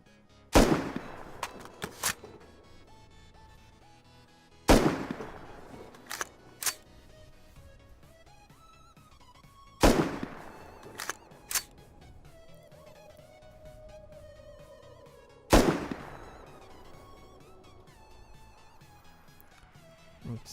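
LR300 rifle with a muzzle boost attachment fires in the Rust video game: four separate bursts, each a sharp crack followed by a few quick shots and a long ringing tail, spaced several seconds apart, with no voices.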